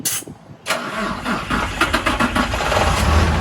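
A 2008 Hino Mega 320 hp tractor-unit truck engine cranks and catches after a brief quiet moment, then settles into a loud, rumbling idle up close on its stock exhaust.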